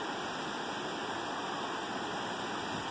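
Water from a creek swollen by heavy rain rushes steadily past, a dense, continuous close-up flow with no pauses and no voices.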